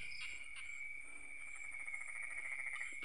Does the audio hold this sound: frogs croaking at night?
yes